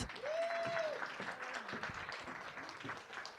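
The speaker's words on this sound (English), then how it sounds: "Let's give them a big round of applause." An audience at an Indigenous women's dialogue session applauds as a group is invited onstage, with steady clapping under a brief tonal whistle that fades toward the end.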